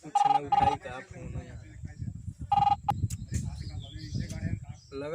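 A telephone rings in a few short, bright trills with brief gaps between them, heard over people talking in a rural household scene.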